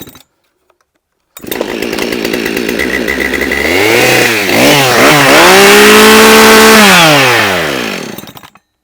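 A petrol chainsaw starts up close and loud, its engine snarling and revving up and down before holding a steady high-pitched roar.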